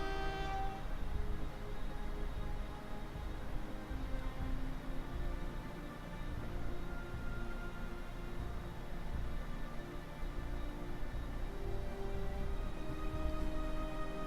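Train horn sounding in the freight-rail game Transport Fever, a sustained tonal blast over continuous rail rumble and rolling noise, steady and fairly loud throughout with no talk.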